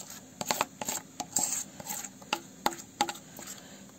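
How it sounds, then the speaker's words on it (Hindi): A greased pan holding dhokla batter mixed with Eno is tapped and knocked on a surface to settle it, giving a quick run of sharp, light clacks at close range with no talking. "इस तरीके से 1-2 बार आप कर लें टैप और ठोक लें"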